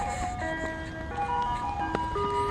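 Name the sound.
ice cream truck jingle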